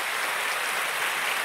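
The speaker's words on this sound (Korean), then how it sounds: "우리 환영과 축복의 박수, 따뜻한 격려의 박수" A church congregation at a Sunday worship service breaks into welcoming applause, a dense, even patter of many hands clapping that fills the room without pause.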